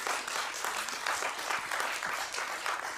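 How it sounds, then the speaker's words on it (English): Brief applause from the audience in a community council chamber, a steady, moderately faint patter of many hands that lasts the whole moment without speech. "we're not permitted to applaud in the chamber"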